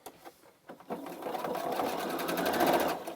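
A sewing machine runs steadily, stitching a face mask with a 3.0 stitch length; a few soft handling taps come first, then the motor's close, even whir carries on to the end.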